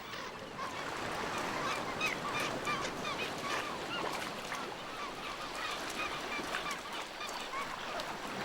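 Kelp gulls squabble and call while feeding on scraps from a leopard seal's kill, a continuous chorus of harsh, overlapping cries and honking calls at moderate distance, with wind or sea noise underneath.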